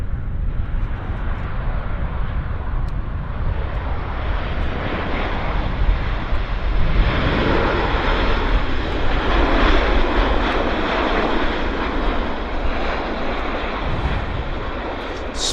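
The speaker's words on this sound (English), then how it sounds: "Quite a nice landing there on Air France A340." An Air France Airbus A340 landing at Vancouver Airport: a loud, steady jet engine roar close by that holds throughout and swells slightly partway, with no talking.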